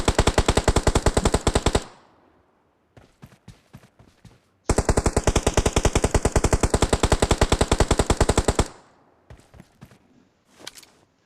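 Long bursts of rapid automatic gunfire in the game BGMI, loud and close, separated by scattered single shots.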